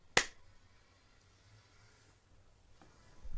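A single sharp hand clap at the start of a podcast recording, used to sync the audio, followed by near silence with faint room noise.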